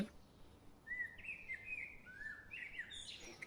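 A sparrow chirps in a short run of bright, high tweets that sit close and clear over a quiet background. A second string of chirps follows straight after.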